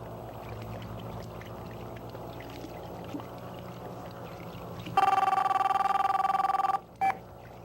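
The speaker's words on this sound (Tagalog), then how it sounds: "Boss, telepono. Para sa inyo." An old-style telephone rings out loudly and close with a sustained electric bell tone lasting about two seconds, then a brief second burst after a short break, following a quiet stretch of room noise.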